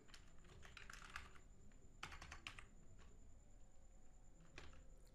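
A computer keyboard clatters as a password is typed, with quick bursts of keystrokes separated by short pauses, close and fairly quiet over a faint room hum.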